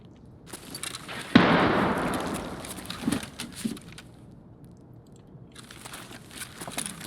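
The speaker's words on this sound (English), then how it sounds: "grenades flying everywhere" A grenade explosion in the video game Escape from Tarkov: one sharp, loud blast with a long rumbling decay, then a smaller thud, against quiet game ambience.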